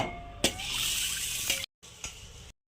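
Tap water runs into a vessel of matar dal (split peas) being rinsed in a kitchen sink. The stream is close and steady, broken by sharp clunks of the pot, a brief stop, then a second short burst of flow.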